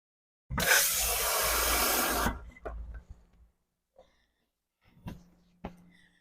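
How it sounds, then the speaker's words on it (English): A tap runs into a sink during an esthetician practical exam, a strong steady gush of water for about two seconds that then cuts off, followed by a few quiet clicks and drips in a hushed room. "I'm going to go over to the sink and wash my hands"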